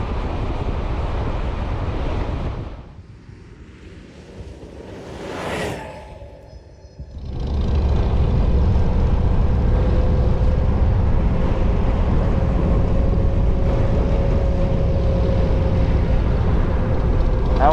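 Steady wind rush and road roar while riding a Zero DSR/X electric sport adventure motorcycle, loud and continuous, with a brief quieter dip before the wind noise swells back in and holds.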